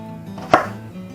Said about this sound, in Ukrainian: І зараз я нарізаю так само баклажани.